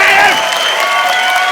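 A studio audience at a comedy talk show applauds as a ribbon is cut, loud dense clapping and crowd noise filling the whole short stretch at a steady level.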